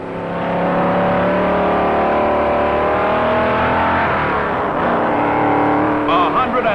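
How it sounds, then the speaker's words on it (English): A 1957 Pontiac race car speeds along Daytona Beach, a loud, close engine roar with rising whine as it passes at speed, then fading with a Doppler drop, while a commentator talks over it. "Cotton Owens in one of Ray Nichols' Pontiacs."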